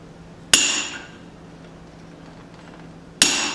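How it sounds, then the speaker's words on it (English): Two loud, sharp metallic strikes of a hammer on a straight-bladed chisel during forging of a small claw hammer, spaced about three seconds apart, each with a brief ringing decay. "I'm going to use my straight bladed chisel, see if I can get that to crack it"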